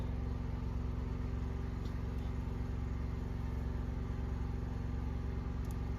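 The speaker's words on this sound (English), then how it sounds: "I have a generator running outside." A low, steady generator engine drone hums continuously in the background outdoors, with no voices.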